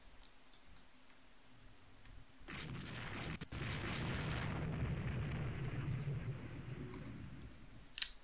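Warship guns firing in the naval game Rule the Waves 3 with a 1890s German fleet, a faint sustained rumbling barrage that swells and holds for several seconds beneath light clicks.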